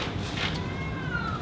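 A phone ringtone imitating a cat: a single short, high, meow-like electronic chirp sounds once over a low background hum.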